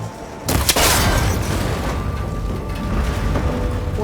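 A cable connector struck by a shot in the video game Horizon Forbidden West: one loud, sharp boom and crack that fades into a lingering mechanical rumble and rattle.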